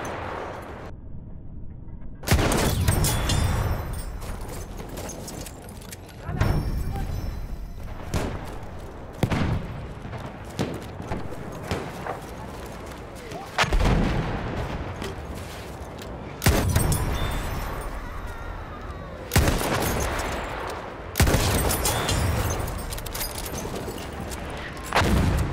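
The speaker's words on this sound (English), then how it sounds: "Feindliches MG!" Bursts of gunfire and booming blasts from the Battlefield 1 video game. Loud, repeated volleys of shots and explosions recur every few seconds with rumbling battle noise in between.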